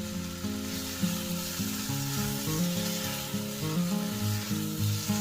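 Tomatoes, green chili and coriander leaves fry in a pan with salt, giving a continuous close sizzle with light stirring scrapes, while a steady tonal hum from the kitchen runs underneath.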